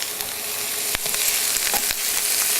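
Oil sizzles steadily in a warm pan as food is briefly sautéed, with a few sharp spatula clicks and stirring taps over the continuous frying hiss.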